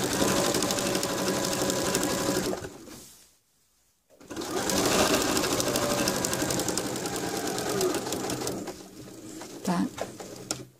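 A sewing machine stitches bias binding with a mitred corner, running in a steady continuous whir that stops briefly near the middle and then resumes, with faint background noise throughout.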